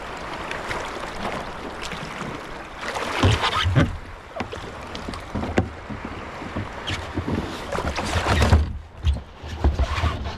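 Water sloshes and splashes close by on Lake Erie as someone hauls themselves from the water into an 18-foot 1995 Impex Outer Island sea kayak, with knocks against the hull and gusts of wind noise.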